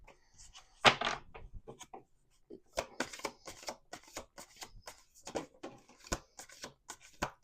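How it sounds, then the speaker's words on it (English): A deck of playing cards is shuffled and handled on a table in a series of crisp riffles, snaps and soft taps, with a person talking between bursts. "We're gonna do 1 more shuffle."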